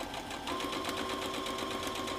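A sewing machine stitching paired quilt squares along a marked line for a quilt made from 10-inch blocks, a steady, quiet mechanical whir that runs continuously without pause.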